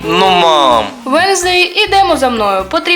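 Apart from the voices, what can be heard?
No everyday noises stand out.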